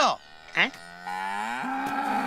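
Cattle moo close by, with two short low calls followed by a long drawn-out moo that shifts pitch, and no voices alongside.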